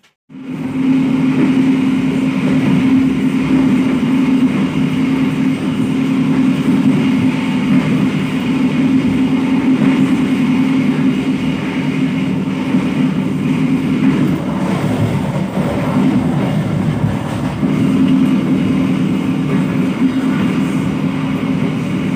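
Steady, loud rumble and hum from inside the Kutojaya Selatan passenger train as it runs during the post-holiday return journey, continuous for the whole stretch with no talk.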